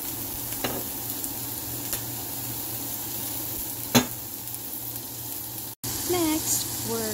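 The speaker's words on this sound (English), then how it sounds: "So next, we are gonna simmer the carrots. And we're going to add some sesame oil." Carrots sizzling and frying in sesame oil in a pan, a steady crackling hiss throughout with a few louder stirring clatters and a brief pause near the end.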